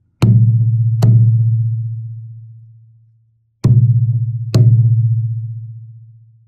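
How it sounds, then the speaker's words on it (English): A Pahu Heiau wooden drum is tapped four times in two pairs, each sharp strike ringing into a deep, sustained booming bass tone that slowly fades, heard close and alone. "Can you hear the boom and the bass of the sound of this Pahu Heiau?"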